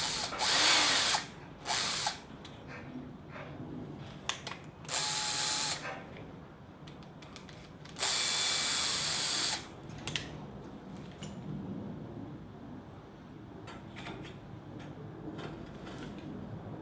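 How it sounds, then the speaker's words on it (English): A power drill whines in several bursts, cutting with a 44mm hole saw while building a gas forge, interspersed with quieter scraping and handling noises between runs. "So set your drill up with the 44mm."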